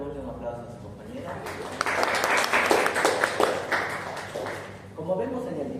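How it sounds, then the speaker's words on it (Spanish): A class applauds a fellow student during a neurology lecture, a burst of many hands clapping that swells, holds for several seconds and fades, with speech just before and after it. "démosle un aplauso a su compañera"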